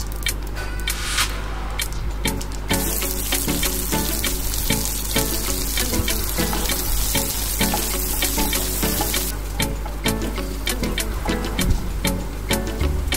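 Loud, busy sizzling of chopped onions frying in hot oil, with crackling pops and occasional scraping, continuous for the whole stretch.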